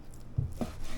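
A knife cuts through turkey tenderloins in a couple of short, soft thuds against a board, close and fairly quiet.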